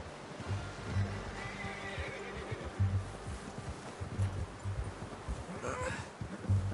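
A horse in a PS4 video game gives several snorting neighs and whinnies at intervals, with soft clip-clop hoofbeats and low ambient rumble underneath.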